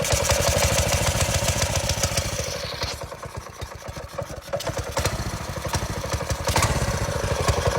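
A 212 mini bike engine clatters in a rapid, steady pulse as a drill spins it to start it, with the engine dipping briefly mid-way before picking back up, close and loud.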